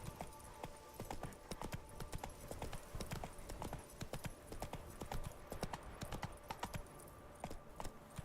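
Roach, Geralt's horse in The Witcher 3 video game, clip-clops along with a quick, steady run of hoof beats, clear and continuous over faint background ambience, no voices.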